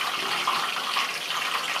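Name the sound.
peanuts frying in hot oil in a wok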